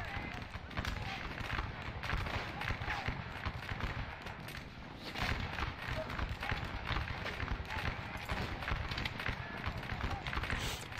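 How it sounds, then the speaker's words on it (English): Napoleonic musket fire crackles through the Waterloo battle in Scourge of War, a dense, continuous ragged volley of distant shots over ambient battlefield noise. "95th is opening fire."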